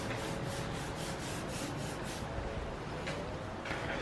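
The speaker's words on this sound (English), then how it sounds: "when you're wiping it, it may sound like you're sanding the car" Close, steady rubbing strokes of a clay towel scrape rhythmically across car paint, gritty like sanding, repeating in even back-and-forth passes.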